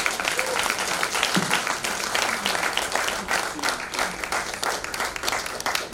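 Sustained audience applause fills the hall after a speech at an International Women's Day celebration, a dense, steady wash of many hands clapping with faint voices mixed in, continuing without pause.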